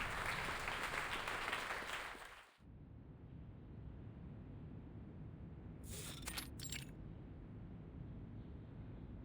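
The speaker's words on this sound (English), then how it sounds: "At first, there are just a few scattered claps, but the applause quickly turns thunderous." Audience applause after a lecture, a loud dense wash of clapping that cuts off abruptly after a couple of seconds, leaving a low steady room rumble with a brief burst of brighter noise later on.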